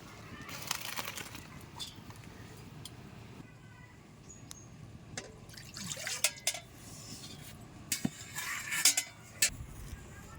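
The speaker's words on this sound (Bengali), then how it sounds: "এবার আমি ঝুড়িতে ছাঁকা দিয়ে নেব" Cooked rice for fried rice draining in a basket colander in a home kitchen, with soft watery trickles and drips, a few light knocks of utensils and occasional clatter, moderately quiet throughout.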